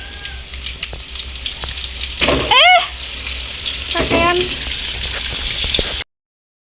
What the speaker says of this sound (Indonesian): Aku masak, aku goreng ceriping